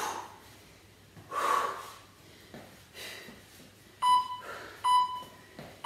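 Three short electronic workout timer beeps ring out in the second half during a home cardio and strength session, evenly spaced, after a few breathy exhales and sniffs.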